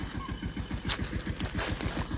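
Tractor engine running at a farm market, a close rapid chugging putter with steady even pulses and faint rattling above.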